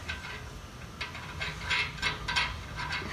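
A ratchet tightens a nut onto a flat washer and lock washer while fitting 66-inch dual rim feet, giving several short bursts of close, dry clicking in quick succession.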